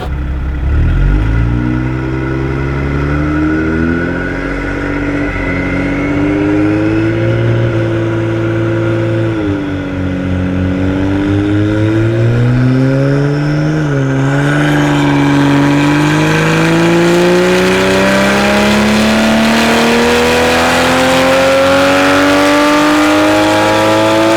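A 2020 Toyota Supra with a catless downpipe on the stock tune revs hard on a dyno, its engine note climbing steadily through the gears in one long, loud, continuous pull with brief dips at shifts.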